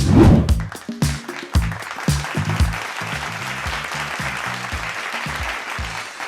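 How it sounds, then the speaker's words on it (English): Applause at an influencer awards ceremony for the Social Initiative Creator of the Year winner, sharp close claps over a loud low-pitched hall sound, settling into a steady dense patter. "we should all stand up, give her a big, big round of applause"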